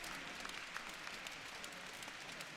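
Steady applause from a large audience at a gymnastics World Cup apparatus final in Cottbus, greeting medal winners; dense, continuous clapping with scattered sharper claps, moderately distant, no talk over it.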